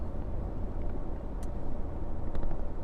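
A steady low engine rumble from a Toyota Tacoma pickup with an aftermarket air intake, cruising, with a constant droning hum and no talking.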